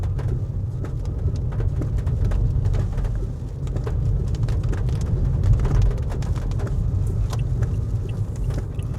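Heavy rain falling in a park near Clark, Pampanga, a dense steady hiss that fills the whole stretch at constant loudness with no voices.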